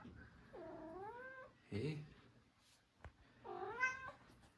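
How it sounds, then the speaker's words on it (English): A cat meows twice with long, rising-and-falling calls separated by a pause, close and clear, with a brief human voice and a short knock between them. "Oh, it's the cat."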